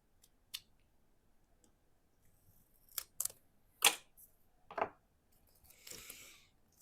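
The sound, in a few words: cutting a piece of foam tape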